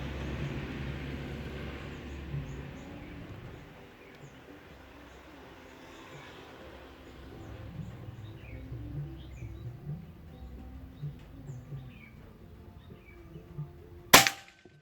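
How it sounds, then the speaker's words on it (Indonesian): One crisp, loud report from a full-CNC Bocap Pajero Gun Gen 5 PCP air rifle cracks near the end after a long stretch of quiet outdoor ambience with soft birdsong. "Tembakan ketiga."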